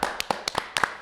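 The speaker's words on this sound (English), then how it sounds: "Clap that up right there." Several quick, sharp hand claps ring out in a short irregular burst, close and fairly loud, with no talk over them.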